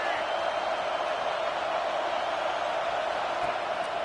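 Large football stadium crowd at an LSU at Alabama game, a loud, sustained roar that holds steady as a team nears the goal line.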